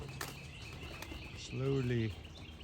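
Racing pigeons take off during a training flight, a soft flutter of flapping wings rising briefly at close range over steady outdoor background noise, with a low cooing-like tone in the middle.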